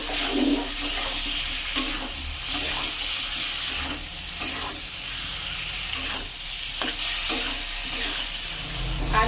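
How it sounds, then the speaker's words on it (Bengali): Squash spice paste with red chili powder and a little water frying in a pan, a continuous loud sizzle with faint periodic stirring scrapes throughout. "এবার অল্প একটু মশলা বাটা জল দিয়ে ভালো করে কষিয়ে নেব।"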